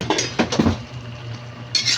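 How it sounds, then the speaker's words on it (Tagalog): Chicken and mushrooms stirred in a pan for a home-cooked sauté, with clinking spoon-on-pan scrapes at the start over a low sizzle, then a brief scrape at the end. "Haluin hanggang sa lumambot ang ating kabute."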